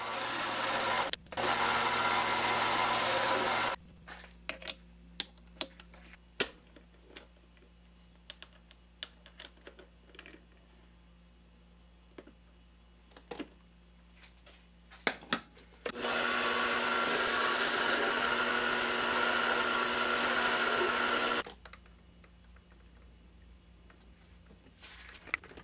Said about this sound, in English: Facing cuts are always the first lathe operation to be done.